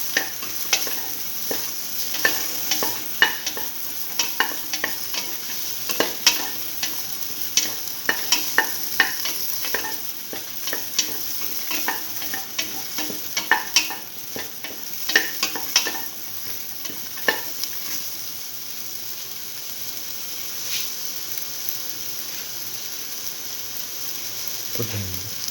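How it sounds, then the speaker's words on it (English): Tomato pieces sautéing with a spice mixture in a pan for beef okra stew, a steady sizzle broken by frequent scraping stirs and spoon clinks, close and moderately loud with no talking. "Thoroughly sauteing it."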